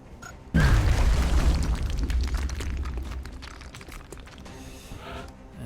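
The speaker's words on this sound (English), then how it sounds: "Going for the grenade." A grenade blast in XCOM Long War hits as a sudden heavy boom with deep low rumble, then decays into crackling debris and a fading tail over several seconds, with no voices.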